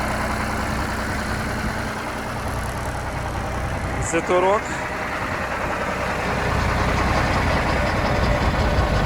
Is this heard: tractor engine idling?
yes